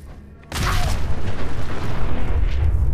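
A nuke grenade detonating indoors in Fallout 4 erupts as a sudden loud boom after half a second of quiet, then rolls on as a sustained, dense rumbling roar to the end.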